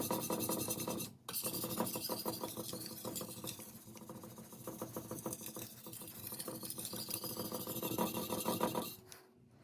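A blade is worked against a sharpening stone to raise a burr, making close, rhythmic rasping strokes in quick repeated passes with two brief pauses.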